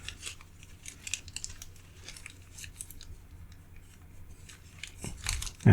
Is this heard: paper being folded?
yes